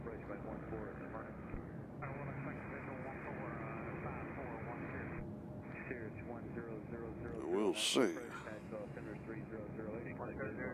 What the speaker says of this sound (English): I still hear something that sounds like a turboprop